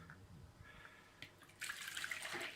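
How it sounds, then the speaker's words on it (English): Lukewarm water pours into a bowl while cleaning a Brinsea Mini II Advance egg incubator, a steady splashing stream starting partway through and continuing close and loud after quieter handling sounds. "put the water in the bowl. This is a little lukewarm water."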